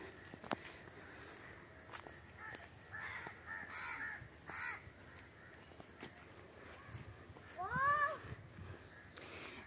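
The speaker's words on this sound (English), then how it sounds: "You can hear the birds." Birds call among trees and shrubs at a scenic spot in India, with a crow-like cawing call standing out near the end over a soft outdoor background and light rustling.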